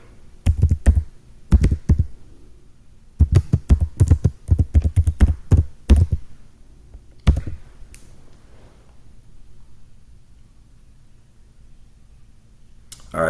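Bursts of fast, crisp keystrokes on a computer keyboard, close and clear, in several flurries over the first seven seconds, then a quiet room with only faint background hiss.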